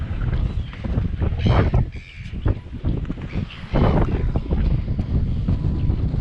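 Strong wind of 50-knot-plus gusts buffets the microphone in surging gusts, roaring loudly with brief lulls in between.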